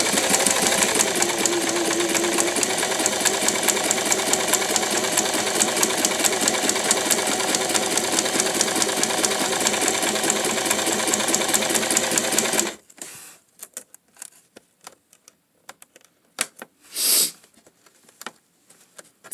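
A sewing machine runs in a fast, even rapid-fire stitching rhythm through thin fabric for a long stretch, then stops, leaving quiet handling noises.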